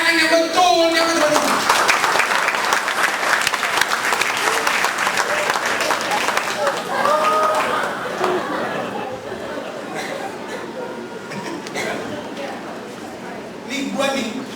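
Church congregation at a revival service breaks into loud applause that gradually thins and softens, with crowd chatter and voices mixed in beneath the clapping.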